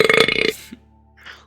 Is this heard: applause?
no